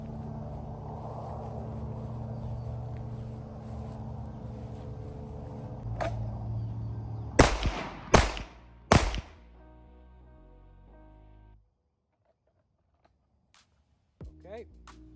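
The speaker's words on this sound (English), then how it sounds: "the shooter will fire 3 rounds, center mass in 4 seconds" Three sharp handgun shots in quick succession at an armed security shooting qualification, loud and close, fired over a steady background hum that then drops away to near silence.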